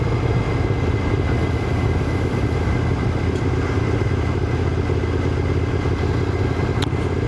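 A motorcycle ride in low gears, the rider easing on the back brake and feathering the clutch over motorbike-friendly speed bumps; a loud, continuous engine drone with steady rumble and wind throughout, no voices.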